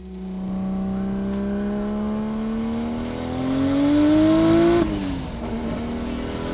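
A 650 HP RB26-powered Nissan 300ZX revs in one long, smooth climb, its pitch rising steadily and growing louder before the throttle snaps shut and the engine settles back down.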